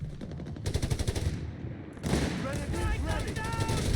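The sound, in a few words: machine gun fire in video game Company of Heroes 3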